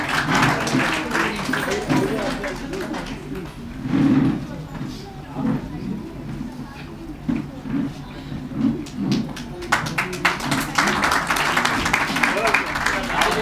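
An audience at an award ceremony for student excellence in Lucknow keeps up steady applause, with clapping that swells and thins and a voice talking over it.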